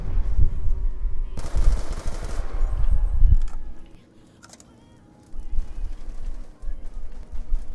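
Loud automatic gunfire from a gun in Black Ops 2 Zombies comes in rapid bursts, breaks off into a short quiet gap, then resumes, with a voice talking over it.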